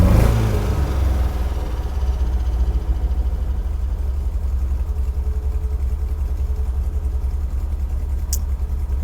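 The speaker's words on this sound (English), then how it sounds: "engine runs really well" A 1977 MGB engine runs close by with a deep, steady rumble, starting with a brief rev before settling into an even idle. It stays loud and continuous with no voices.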